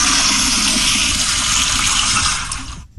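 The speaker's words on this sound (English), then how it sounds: "It's the power flusher, for crying out loud." A power flusher toilet flushes with a loud, forceful, continuous rush of water that holds steady for nearly three seconds and then cuts off abruptly.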